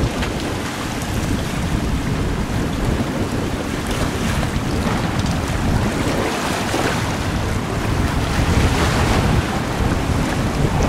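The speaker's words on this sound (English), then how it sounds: "The water makes a lovely sound." Ocean waves and wind on an uninhabited island in South Ari Atoll, Maldives, at a resort: a steady, loud wash of surf with gusty wind noise across the microphone and no talk.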